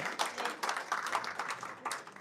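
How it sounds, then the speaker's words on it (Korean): A crowd claps steadily throughout, a dense patter of applause at moderate volume with no voices standing out. "교수님께 큰 박수 부탁드립니다"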